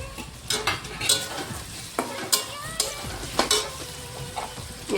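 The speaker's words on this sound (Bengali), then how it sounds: "আমার পেঁয়াজ রসুনটা ভাজা হয়ে গেছে, আমি এখন টমেটোটা দিয়ে দেব।" Chopped tomato goes into fried onion and garlic in a hot pan for a chicken and potato curry, sizzling steadily while a utensil stirs and scrapes in repeated short clinks, close and alone.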